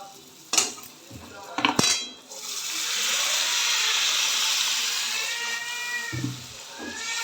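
Water is poured into a pan of sizzling fish curry made with katla fish, a long, steady hissing rush that follows a few clinks of utensils against the pan, with no talk.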